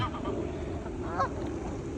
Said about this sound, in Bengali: সো দেখো কত সবের হাঁস